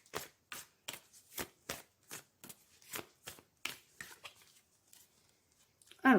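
Law of attraction oracle cards shuffled by hand in a quick run of about a dozen crisp, evenly spaced riffles and slaps, close and clear in a quiet room.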